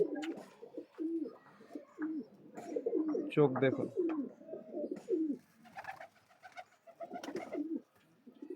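Domestic flying pigeons, cross-bred Madrasi pairs, coo close by in repeated soft throaty phrases while someone speaks briefly over them.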